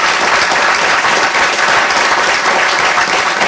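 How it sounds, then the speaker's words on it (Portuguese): Loud, dense applause from a conference audience at a Brazilian retail loss-prevention forum, continuous clapping from a large crowd that holds steady and close the whole time. "uma salva de palmas para toda a diretoria e conselho"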